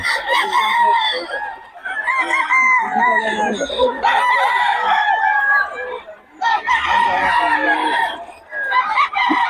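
Roosters crow loudly and repeatedly up close, long strained calls overlapping with clucking fowl, the crows coming in several bursts with short gaps between them.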